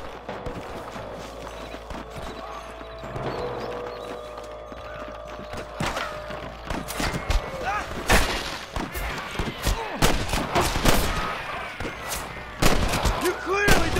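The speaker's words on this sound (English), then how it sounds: "Hear more gunshots." Gunfire in the Western video game Red Dead Redemption cracks in scattered sharp shots and bursts over a busy mix of game sound and background noise, with voices talking at times.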